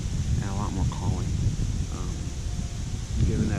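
Strong wind blowing outdoors on a November hunting morning, a steady broadband rush that fills the clip, with faint voice-like sounds drifting in and out underneath.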